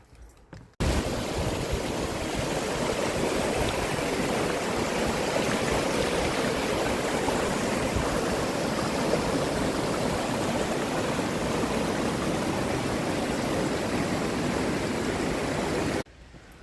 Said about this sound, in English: That was kind of fun checking out that little bit of waterfall area there.